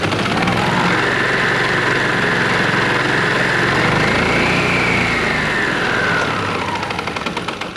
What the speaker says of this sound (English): Just pull on the throttle lever and it starts right up.